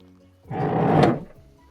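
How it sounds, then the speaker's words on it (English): A single compartment door on an MCI 102 DL3 bus swings open with a brief mechanical rattle and thunk, close by, over a low steady hum. "I forgot to open one of the doors"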